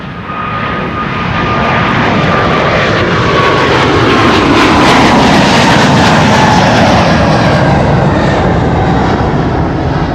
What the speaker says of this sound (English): Look at the pretty airplane approaching.